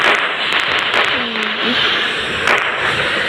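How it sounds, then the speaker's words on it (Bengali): Firecrackers exploding in the Indian Bikes 3D video game: a few sharp bursts ring out over a dense, steady bed of game noise. "এখন আমরা শুধু দুইটাকে ফটকা দিব, খালি ফেটে যাক একটা।"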